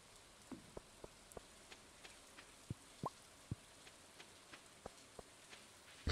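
In the Stardew Valley video game, rain falls softly as a faint background wash, punctuated by sparse, irregular drips and plops landing on surfaces, with no one talking.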